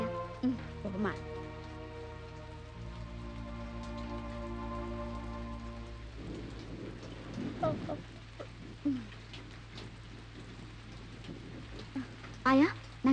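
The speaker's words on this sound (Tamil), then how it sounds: "என்ன கண்ணு இந்த மழையிலையா?" Steady rain falls throughout, a continuous patter under a low background tone and music, with voices speaking briefly toward the end.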